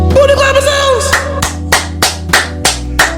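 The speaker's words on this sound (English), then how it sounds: "every video he find a way to add the booty clapping sounds" A booty-clapping sound effect lands as a regular series of sharp, close slaps, about eight evenly spaced smacks over a tonal musical backdrop.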